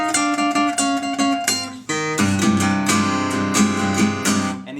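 Acoustic guitar plays the introduction to a song, a run of steady, ringing strummed chords with a brief pause midway before the chords resume, close and clear with no talk.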